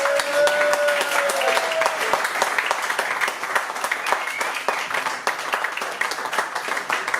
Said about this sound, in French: J'aimerais vraiment, s'il vous plaît, que l'on applaudisse très très fort Lucie